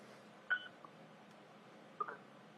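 Two short telephone keypad tones pressed about a second and a half apart, a caller entering star six to unmute on a phone line into a county council meeting, quiet over faint line hiss.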